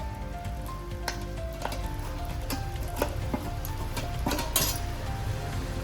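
Steady sizzling of jaggery in a hot pan with occasional clinks of a utensil against metal, close and continuous.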